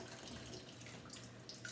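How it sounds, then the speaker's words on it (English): Water runs steadily from a kitchen sink faucet into a bleached, freshly cleaned sink, a soft continuous splashing hiss at low volume with no talking. "Let me turn the water off"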